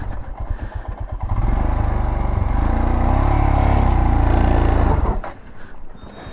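A motorcycle engine on an uphill ride in Nepal chugs unevenly, swells into a strained, loud drone for a few seconds, then cuts out abruptly, leaving a quieter rough idle at the end.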